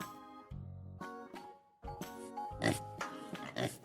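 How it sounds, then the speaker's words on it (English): Pig grunting and oinking in short, rough bursts over a light background of jingling music, with several snorts spread across a few seconds. "A pig says, can you make the oink sound?"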